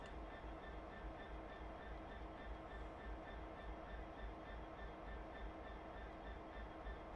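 A Train Sim World train on a suburban Glasgow and Airdrie line rolls with a low steady rumble and faint rhythmic wheel clicks as it eases toward a stop, with no talk.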